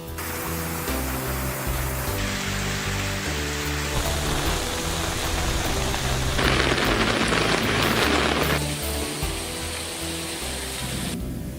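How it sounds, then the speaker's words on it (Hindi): Heavy monsoon rain pours down in Rajasthan as a dense, steady roar of broadband hiss, loud and unbroken throughout, with no voices. "मरुधरा में जमकर बरसे बदरा"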